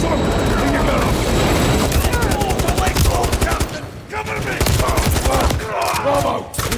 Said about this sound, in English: We need suppressive fire here now!